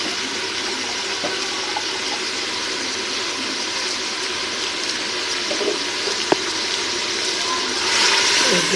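Water poured into a pot of stewing meat with tomatoes and spices to cook it down, a steady close splash and rush of liquid that swells louder toward the end.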